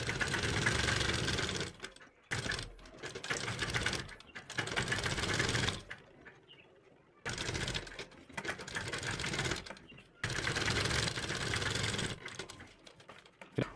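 A sewing machine stitches through buckram for a garment neckline in three long bursts of steady rapid whirring, each broken off by short pauses, loud and close with no talk.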